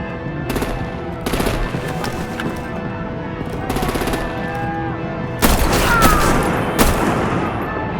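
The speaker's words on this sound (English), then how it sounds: "Break out the artillery and disable their vehicles!" Artillery and automatic gunfire in the Batman: The Enemy Within video game, loud repeated bursts of rapid shots with short pauses between volleys and a heavier barrage near the end.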